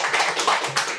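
A brief burst of audience applause at a memorial seminar, a dense patter of claps lasting about a second.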